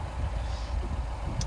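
A 2013 Mini Cooper S R56 engine idles steadily just after start-up, a low, even rumble with no talk over it.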